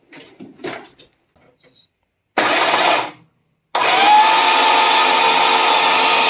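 A Slant Six engine cranking over, heard as two sustained, loud bursts of starter whir, one short and one longer, after quieter handling noises and a brief voice.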